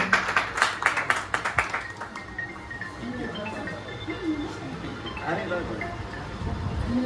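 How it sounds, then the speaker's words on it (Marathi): Sharp, distinct hand claps ring out at a 1998 batch school reunion, a quick run of about a dozen that fades after a couple of seconds into murmured talk and room noise. "जोरदार टाळ्या होऊ द्या मित्रांनो."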